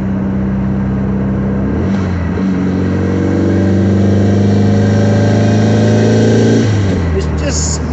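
A Volkswagen with a freshly rebuilt transaxle drives along, its engine droning loudly and steadily with rising pitch through smooth gear changes around two and six and a half seconds, while a person talks over it.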